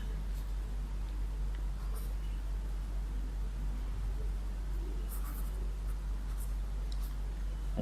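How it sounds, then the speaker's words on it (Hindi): Pen writing on paper during a physics problem worked out by hand, a steady faint scratching under low hum with no talk. "तो ये हम लिखते हैं"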